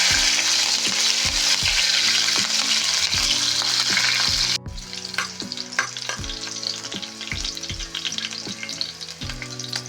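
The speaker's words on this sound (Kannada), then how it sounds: "ಈಗ ಸ್ವಲ್ಪ ಹಸಿಮೆಣಸಿನಕಾಯಿ ಹಾಕ್ತಿದ್ದೀನಿ." Green chillies drop into hot oil in a pan and fry with a loud, continuous sizzle. Repeated scraping knocks from stirring run throughout, and the sizzle turns more crackly partway through.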